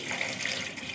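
Water pours steadily into a cooking pot of spiced meat with garam masala, cumin, turmeric, cloves and cinnamon for tawa gosht, a continuous close splashing gush that lasts the full second with no voices.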